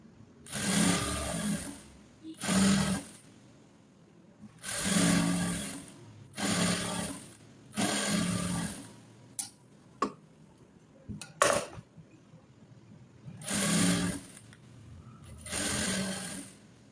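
Sewing machine stitching the front and back pieces of a garment, running in repeated bursts of a second or two separated by short pauses, with a few light clicks and knocks between runs; close and alone, no talk.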